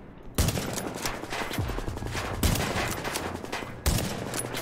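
Rapid automatic gunfire from a fast-firing weapon in The Division, loud sustained bursts of closely spaced shots with sharp heavier reports near the start, middle and end, no voices.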